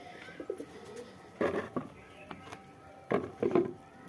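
Pet pigeons coming to drink water give a few short bursts of low cooing, close and fairly faint, with brief pauses of quiet and light knocking sounds between calls.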